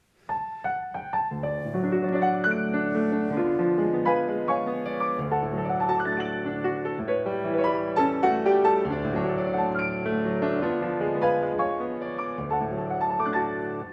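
Solo piano plays a slow, lyrical melody over flowing chords, warm and expressive, with no talking.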